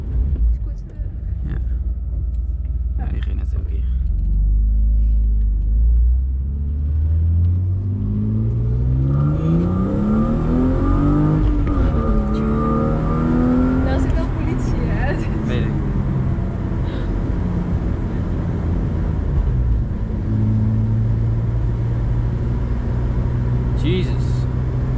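A BMW E36 323i engine with an M50 manifold swap revs up and down while driving, pitch climbing and falling through the gears, with a person talking over the steady rumble.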